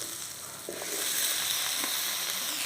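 Onions and tomatoes sautéing in a pan for mutton curry, a steady broadband sizzle that grows louder partway through and stays continuous, with a couple of faint utensil taps, no talking.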